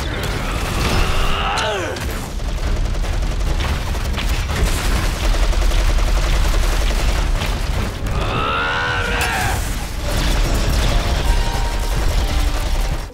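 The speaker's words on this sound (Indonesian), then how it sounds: "Lesian menembaki GM tanpa henti" Sustained bursts of anime gunfire as a fighter shoots at a GM mobile suit in a Gundam film, heavy booming shots and rattling volleys mixed with mechanical whooshes and sweeping tones, loud and dense nearly throughout.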